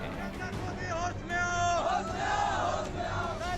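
A crowd of rioters shouts and yells at Lakhisarai railway station during Agneepath protests, a loud, dense roar of overlapping voices with sharp rising cries.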